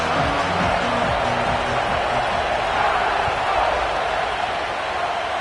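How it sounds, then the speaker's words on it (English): Steady broadband roar of a stadium crowd in the College Football 25 video game, continuous and dense throughout, with faint low murmurs beneath. "the crowd is making it really hard to communicate and hear each other right now down on the field"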